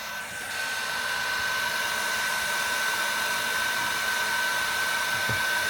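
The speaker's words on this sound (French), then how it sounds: "ce que vous entendez, c'est le sèche-cheveux" A hair dryer blows steadily throughout, a loud even whoosh with a thin constant whine, used to warm a heating solenoid valve while plugged into a portable power station.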